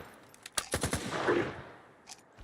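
Bursts of gunfire in the video game S.T.A.L.K.E.R. 2: Heart of Chornobyl, several sharp shots in quick succession followed by a rolling echo and a couple of fainter later reports.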